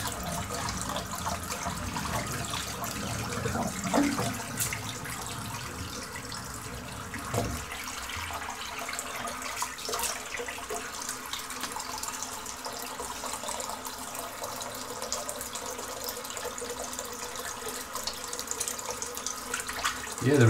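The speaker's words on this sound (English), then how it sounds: "Empty the sink out now because it is chock-a-block full of lather in here." Running water from a tap pours into a bathroom sink as shaving lather is rinsed away, a steady close hiss and splash that continues throughout with faint shifts in flow.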